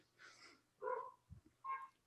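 Dog barking in the background of a home podcast recording, three short faint barks spaced across a couple of seconds, distant and otherwise quiet.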